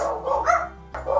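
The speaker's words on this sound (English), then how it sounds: "Sorry about the dogs." Dogs bark indoors in a couple of close, fairly loud barks over a steady background hum.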